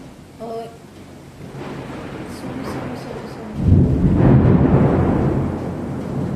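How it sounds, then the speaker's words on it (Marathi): Strong thunder rumbles during a sudden windstorm, heard from inside a home kitchen where a kadhai is heating on the stove. A brief voice comes first, then a deep, loud rumble swells and slowly fades. "विजा खूप जास्त जोरजोरात म्हणजे कडकडत आहेत"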